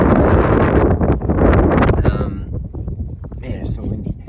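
Strong outdoor wind buffets the microphone beside a 1996 Jeep Grand Cherokee ZJ, a loud rumbling gust for about two seconds that then eases into lighter, uneven blowing.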